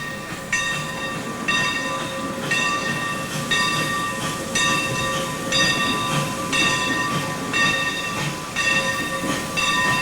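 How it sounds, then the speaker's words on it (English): A long freight train backs steadily into a rail yard, wheels clacking in a regular rhythm with a sustained tonal whine, the rumble holding constant throughout. "A long freight train backs into Laughlin Yard, where it will be broken up."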